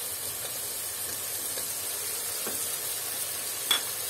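Vegetables for veg pulao sizzle and fry steadily in a pan as chopped carrots go in, with a constant soft hiss, faint stirring scrapes and one brief clink near the end.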